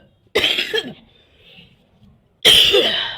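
Two loud, harsh coughs very close by, separated by a short quiet pause.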